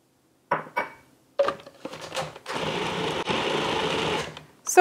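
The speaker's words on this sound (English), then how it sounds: "when it starts collecting in this ball like that, that's when you know the food processor has done enough work for you" A food processor whirs steadily for a couple of seconds as it mixes gnocchi dough with flour and Parmesan, preceded by short clatters and bumps, close and fairly loud.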